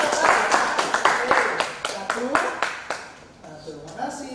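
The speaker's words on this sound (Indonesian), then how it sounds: "Tentunya tepuk tangan dulu dong teman-teman kita" An audience claps at a school student council (OSIS) upgrading event, with brisk loud clapping that thins out and fades over a few seconds while a speaker talks over it.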